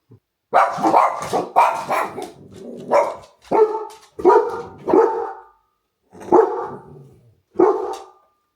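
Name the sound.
dogs barking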